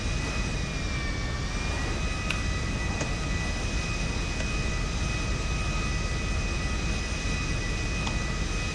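An airplane engine in the video game GTA Online, a steady, even jet-like drone with a faint high whine holding throughout, continuous and moderately quiet with no talking.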